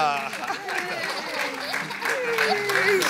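Church congregation applauding after a baptism, a scattered crowd clapping and cheering with voices chattering over the applause.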